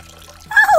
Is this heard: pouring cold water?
yes